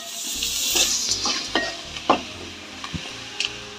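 Two medium carrots, cut and grated, hit a hot frying pan with a close sizzle, then a utensil stirs them in a handful of scraping strokes over a few seconds, with no talking.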